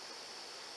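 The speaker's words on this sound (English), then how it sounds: "as you can see, we have a little waterfall there" A small waterfall on a backyard creek gives a steady, even rush of falling water, continuous and fairly close, with no voices over it.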